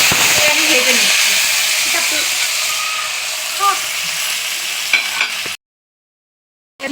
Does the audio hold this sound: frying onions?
yes